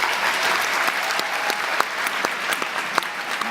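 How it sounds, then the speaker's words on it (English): A graduation commencement audience claps loudly and steadily, a dense wash of hands with a few sharper individual claps standing out. "give them a big round of applause."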